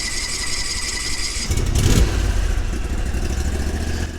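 Argo 8x8 amphibious ATV engine running on choke: a steady, moderately loud mid-pitched idle that swells a little partway through and then settles into an even rumble, with no talk.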